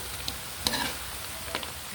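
Duck stew in a pot bubbles with a soft sizzle while a utensil stirs, giving a few distinct knocks and scrapes against the pot; no one speaks.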